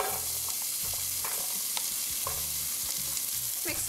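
Chopped garlic sizzles in hot oil in a 5-quart pot over medium heat for a bhuna masala, a loud continuous hiss with rhythmic scraping stirs close by.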